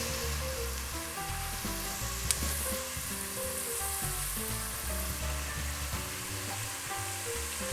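Potato slices for homemade chips fry in hot oil, giving a continuous, even crackle and sizzle with faint stirring, steady and fairly quiet with no voices.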